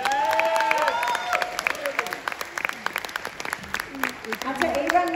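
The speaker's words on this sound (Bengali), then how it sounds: "বাচ্চাদের জন্য একটা বড় হাততালি প্লিজ" An audience claps steadily for children at a dance show, dense continuous applause with a few cheers mixed in, loud and close throughout.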